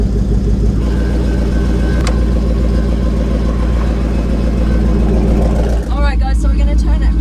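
Engine of a Citroën GT supercar runs loud and steady at close range, a dense low drone that dips briefly before a voice talks over it near the end.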